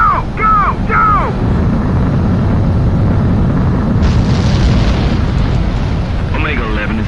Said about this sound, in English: Omega 11, you are cleared for takeoff.